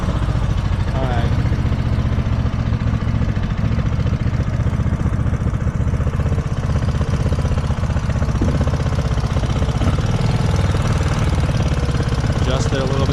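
A 2005 Kawasaki Vulcan 750 motorcycle engine idles high while warming up, a loud, constant low throbbing rumble that holds steady throughout with no break, close to the listener.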